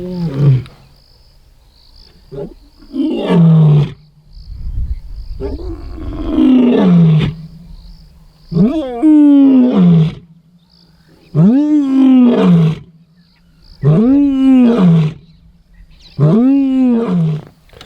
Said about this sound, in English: So he's really roaring full bore this morning.